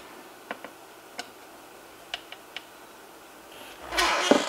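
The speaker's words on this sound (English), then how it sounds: "We'll use a slightly bigger screwdriver on these." A screwdriver tightens screws on a 1930s NuTone chime clock during reassembly, giving a handful of faint, sparse metallic ticks and clicks, then a brief louder scrape and rattle at the end.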